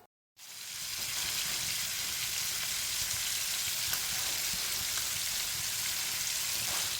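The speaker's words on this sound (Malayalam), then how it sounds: "മീൻ ഓരോന്നോരോന്നായി ഇട്ട് കൊടുത്ത് നല്ല നന്നായി ഒന്ന് ഫ്രൈ ചെയ്തെടുക്കാം" Fish pieces fry in hot oil with curry leaves, sizzling loudly and continuously, a dense crackling hiss that starts suddenly and holds steady throughout.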